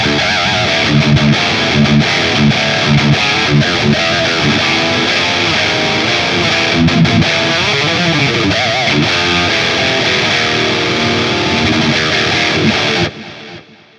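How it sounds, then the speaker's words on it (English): Distorted electric guitar plays sustained chords and notes with echoing ping-pong delay repeats, then cuts off abruptly near the end. "It's a ping pong delay, so it's jumping around."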